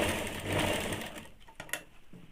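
A sewing machine stitches a high-neck blouse, running in a steady close whir that slows and stops with a few clicks and taps near the end.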